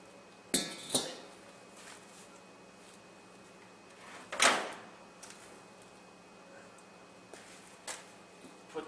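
A lid set down on a barbecue smoker over pulled pork gives a few sharp metallic clanks, one louder knock in the middle and fainter taps afterward, close by in an otherwise quiet space.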